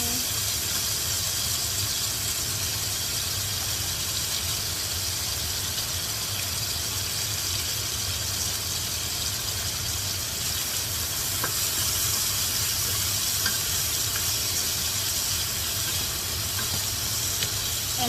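Onion sizzling in rendered pork fat for zuppa toscana, a steady even hiss running unbroken for the whole stretch, no voices.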